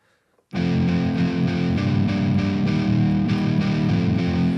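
An overdriven electric guitar through an amp simulator's classic rocker preset starts abruptly after a brief silence and strums gritty rock chords steadily, moderately loud with no talking.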